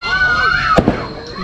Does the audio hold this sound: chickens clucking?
no